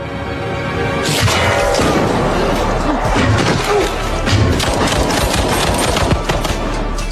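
A sudden loud film gunshot blast, fired from the dark, followed by sustained crackling, rumbling noise, like an intense action scene.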